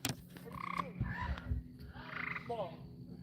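Tree frogs croak in repeated rhythmic bursts at a rural Oklahoma homestead in Idabel, fairly close and steady over a low outdoor background, with no voices present.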